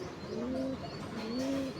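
Female pigeon cooing in repeated low, rolling phrases, two coo bursts heard close and clear with no talk over them.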